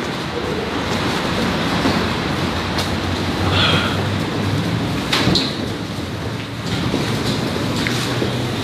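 A metro train in St Petersburg, Russia rumbles along with a broad, steady roar, punctuated by occasional clanks and squeals, heard from inside or close by.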